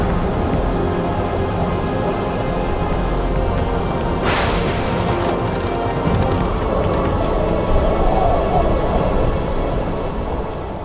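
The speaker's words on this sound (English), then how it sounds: "Storms in the desert can be very dangerous," A desert thunderstorm in a video game simulating the Grand Canyon: steady heavy rain hisses throughout, with a loud thunder crack near the middle and rolling rumbles after it.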